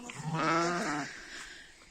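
A single sheep bleats close by on a pasture, one loud wavering call that fades out, with no talk over it.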